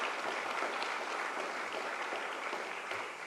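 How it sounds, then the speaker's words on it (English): An audience at a high school hall of fame ceremony gives a steady, even round of applause, a dense wash of many hands clapping at moderate distance with no voices on top. "round of applause for Pat Mancuso."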